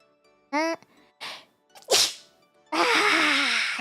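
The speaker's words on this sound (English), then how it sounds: "Oh, I'm gonna sneeze." A single loud sneeze bursts out after a few sharp intakes of breath, close to the microphone, followed by a lingering vocal sound.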